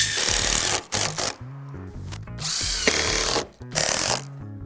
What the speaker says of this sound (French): On va visser la panne sur le poteau.